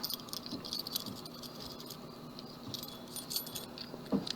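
Metal keys jangle and rattle while a Master Lock Level 9 padlock is tested, a steady close-up clinking with scattered small taps and a sharper knock near the end.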